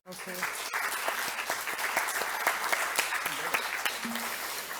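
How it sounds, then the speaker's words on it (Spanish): Steady applause from the audience at a round table panel on sustainable tourism, a continuous, moderately loud wash of clapping held throughout, with faint voices mixed in. "y también un fuerte aplauso para ellos"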